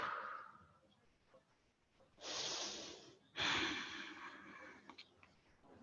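Slow yoga breathing during an intermediate leg-focused class: two long, steady breaths close to the microphone, each a broad airy rush lasting about a second, separated by a short pause, with quiet room tone before and after.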